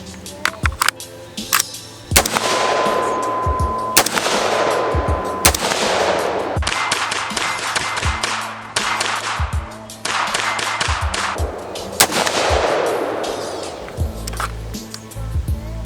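A Windham Weaponry AR-15 fires .223 steel-case ammunition on a private range, with loud, sharp shots spaced irregularly at about one to two per second, each followed by a ringing echo.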